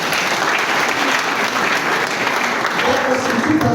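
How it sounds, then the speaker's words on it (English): An audience at an entrepreneurship centre groundbreaking event at Yaba Tech gives a lot of applause for Baba, a thick, continuous burst of clapping close by that holds steady for the whole stretch with no talking. "And there are a lot of applause for Baba."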